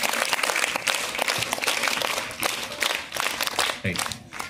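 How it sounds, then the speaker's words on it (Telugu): An audience at a school science day celebration claps steadily for several seconds, a dense spread of hands close by, with voices talking over the applause. "గట్టిగా క్లాప్స్ కొట్టండి."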